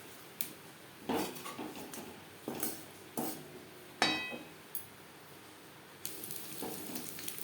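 Pomfret fish frying in a pan, with a low background sizzle broken by a series of sharp metallic clinks and scrapes from a spatula or utensil against the pan, spaced irregularly, close and fairly loud.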